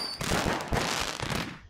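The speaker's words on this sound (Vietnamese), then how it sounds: "Các bạn nhìn nó bắn này." Dense, loud rapid gunfire from guns in the video game Garry's Mod, a continuous rattling volley with no talking.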